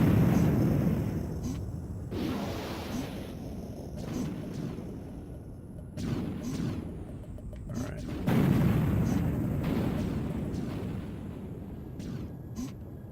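Gunfire in a PlayStation FMV game booms out in several heavy, separated blasts, each with a rumbling decay, alongside a voice talking.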